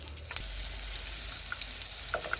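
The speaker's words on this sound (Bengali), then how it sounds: "কড়াইতে সরিষার তেল দিয়েছি, কিছু শুকনো মরিচ কিছু কাঁচা মরিচ দিয়েছি" Dried and green chilies fry in mustard oil in a wok, a continuous close hiss with scattered small pops and crackles, no voices.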